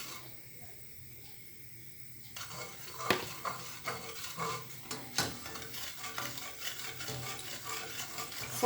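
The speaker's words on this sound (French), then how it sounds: "ونخلط. il faut tourner." A sugar and cornstarch mixture for orange chocolate flan being stirred over heat in a pot, quiet at first, then a close run of rhythmic spoon scrapes and soft clinks.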